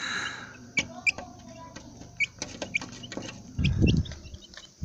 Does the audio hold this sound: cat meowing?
no